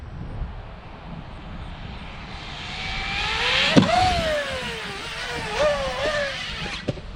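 An Arrma Typhon 6S RC car whines past on a ramp run, its electric motor rising and falling in pitch, with a sharp thud as it lands and another short knock near the end.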